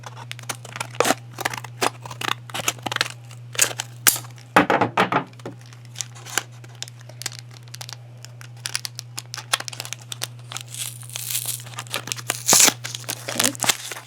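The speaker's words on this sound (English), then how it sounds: "Getting my scissors." Scissors cut open a Pokemon card pack, giving close, crisp snips and crinkling foil rustles in irregular bursts over a steady low hum.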